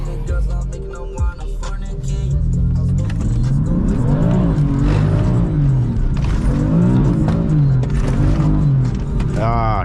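A BMW M4 slides in a manji on a rain-soaked road, the engine revving up and down in steady rhythmic swells close by, loud and continuous, with a brief thump near the start and tires hissing on wet pavement.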